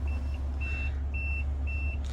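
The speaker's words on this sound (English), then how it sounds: "The beeping that you hear is normal." Four evenly spaced electronic warning beeps from the wheelchair conversion of a 2008 Honda Odyssey EX-L van, each about a third of a second, repeat steadily over a low idling engine rumble.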